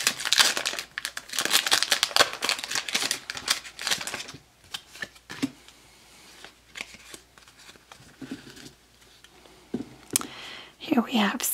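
A Pokémon XY booster pack wrapper being torn and its foil crinkled, close and rustly in dense bursts, mixed with soft talking and quieter pauses.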